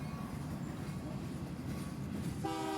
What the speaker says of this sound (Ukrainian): Якийсь потяг чуєте?